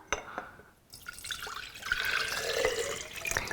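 Water pouring into a container, a continuous splashing trickle that grows fuller and steadier, with a few light clinks at the start.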